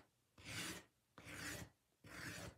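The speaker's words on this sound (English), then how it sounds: "now I'm just going to go over with a scraper and I'm going to distress it" Scraper dragged over a painted wood piece to distress the finish, three separate rough rasping strokes, close and fairly quiet, with no talk.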